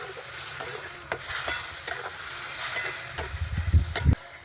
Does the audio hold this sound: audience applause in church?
no